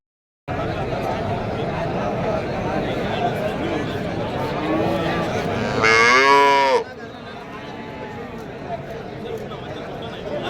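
Cattle at the Karimangalam cow market, with one loud, close moo rising and falling over the crowd murmur and speech, set against a constant busy market hum.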